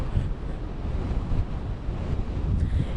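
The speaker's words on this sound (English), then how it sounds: "you can see just how fierce the waves are behind me right now" Fierce storm surf crashes along the shore by the seawall on Ocean Road in Narragansett, driven by strong wind; steady roaring waves and heavy wind buffeting the microphone, loud and continuous with no talking.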